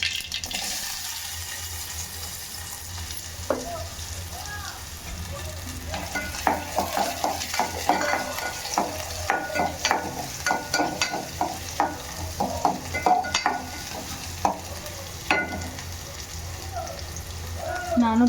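Onions are fried in a pan with a steady sizzle, and a spoon stirs them in irregular scraping strokes, close and moderately loud, with occasional talk in the background.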